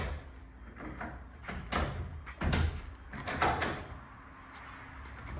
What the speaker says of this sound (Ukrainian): і тепер легенько закриваємо і двері